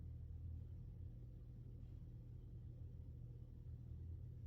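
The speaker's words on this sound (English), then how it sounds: "It's just like a really big truck for such a small space." A large truck rumbles nearby in a small space, giving a low, steady, fairly faint droning rumble that continues without a break and has no speech over it.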